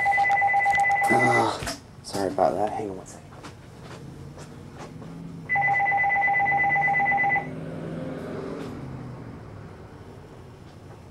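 An electronic telephone rings in two clear bursts of a steady two-tone trill, loud and close, with someone speaking in the quiet stretch between the rings.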